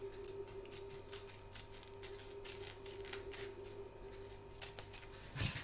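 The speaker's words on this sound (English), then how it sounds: "I'm just going to pop my scissors in there and then cut all the way around the edge" Scissors cut wash-away embroidery stabiliser out of a hoop, giving faint, quiet snips in an irregular series, with a louder clunk at the end.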